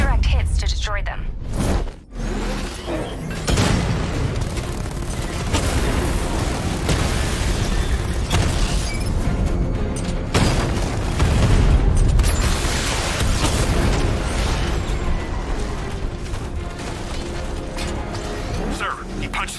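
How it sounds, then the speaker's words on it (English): Heavy tank cannon blasts and booming explosions crash repeatedly over a dense, rumbling battle din in the video game Batman: Arkham Knight, with game sound effects layered throughout. "Your 60mm cannon will penetrate these heavily armored units, but it'll take a few direct hits to destroy them."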